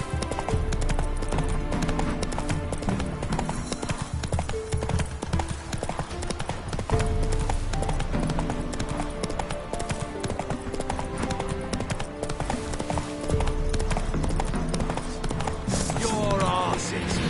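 In the game, the horse Roach gallops with a rapid, continuous clip-clop of hooves, loud and close, mixed with game sounds and music and a brief whinny near the end.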